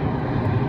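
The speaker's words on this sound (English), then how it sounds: "There's a plane." A fixed-wing airplane passes overhead, its engine producing a steady, loud broadband rumble that fills the whole short stretch with no voices over it.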